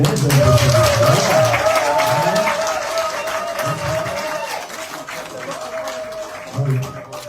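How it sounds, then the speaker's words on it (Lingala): Scattered, faint applause from an audience at a formal event, a soft broadband patter fading in and out over several seconds, with a voice speaking over it. "Les applaudissements timides."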